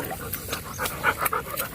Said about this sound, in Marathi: ऊन लागता मग धापा टाकीत राहशील